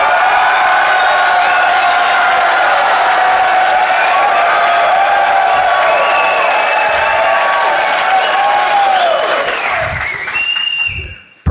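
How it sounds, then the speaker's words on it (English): A DEF CON conference audience in a small room screams, whoops and claps loudly together for about ten seconds, a dense continuous roar of cheering and applause that cuts off sharply at the end. "I want everybody to scream and clap for 10 seconds as loud as you possibly can"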